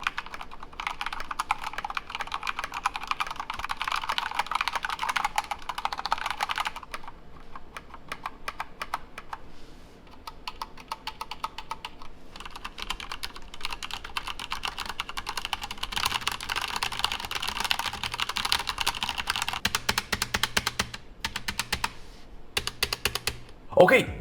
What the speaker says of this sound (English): a type test between the two keyboards to let you hear the difference between the two switches